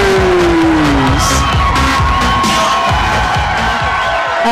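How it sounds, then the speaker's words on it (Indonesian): Crowd at a One Pride MMA semifinal event in Indonesia cheering and applauding, a loud continuous roar of voices and whoops filling the arena, with a high whistle-like tone gliding downward near the start. "Tepuk tangan sekali lagi untuk Abro Fernandez."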